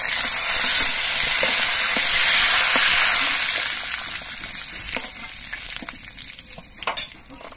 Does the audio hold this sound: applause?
no